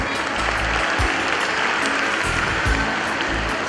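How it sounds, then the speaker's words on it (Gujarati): Audience clapping at a primary school's annual day prize ceremony, a steady dense applause that holds for several seconds at moderate loudness without speech. "તાળીઓથી વધાવી લઈશું"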